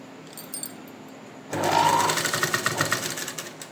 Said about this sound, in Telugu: నేను నార్మల్ పాదంతోనే స్టిచ్ చేస్తున్నాను